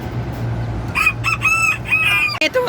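A young bantam cockerel crows and clucks close by, several loud strained calls in quick succession over a steady low hum, with a brief pause before a final short cluck.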